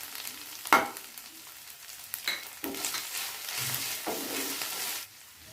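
Onion with ginger garlic paste frying in a pan, a steady sizzle with a sharp knock early on and several scraping stirs, near and moderate in level, no one speaking.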